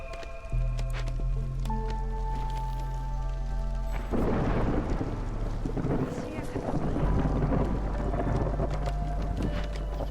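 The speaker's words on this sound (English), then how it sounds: "And I guess I might as well cleanse this Haunted Rain now." Haunted Rain storm in the video game Against the Storm: a sustained wash of rain and wind with deep rumbling, layered over steady tonal game music hum, no clear speech.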